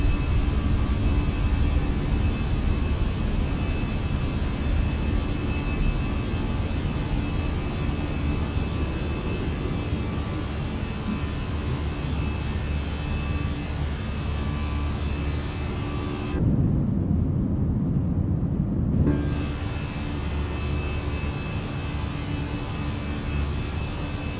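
Allegiant Airbus A320 airliner taking off in MSFS 2024, a steady loud broadband engine roar that holds throughout, dipping into a brief muffled lull partway through before the full roar returns.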